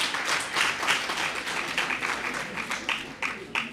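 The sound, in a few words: audience applause after a performance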